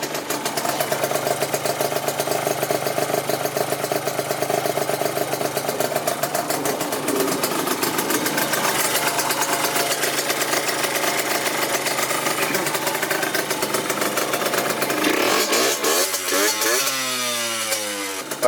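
Yamaha YSR50 mini bike with an upgraded exhaust and carburetor, its small engine idling loudly and steadily with a buzzy, throbbing pulse, then a brief rise and fall in revs near the end.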